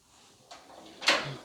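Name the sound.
tool cart drawers sliding open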